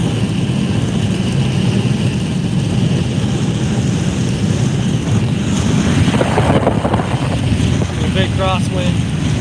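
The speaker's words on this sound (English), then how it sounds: "Big crosswind." Strong crosswind from a derecho storm roars continuously against the microphone near Sioux City, a steady loud buffeting rush with a few faint tonal squeaks near the end.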